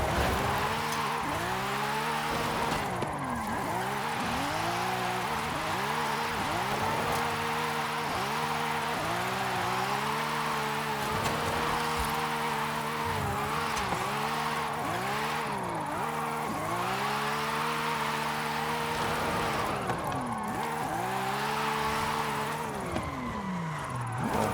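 A car drifting in Forza Horizon 5 on the Volcano Drift Zone, its engine revving hard and constantly bouncing between high and low pitch with tire squeal, loud and continuous throughout with no talking.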